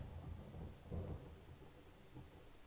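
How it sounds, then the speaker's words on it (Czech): Distant thunder in the video game 7 Days to Die, a low soft rumble that swells and fades over steady rain-like hiss. "Tady hřmí."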